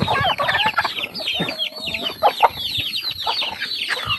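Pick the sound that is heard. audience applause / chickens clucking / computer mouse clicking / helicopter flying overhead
chickens clucking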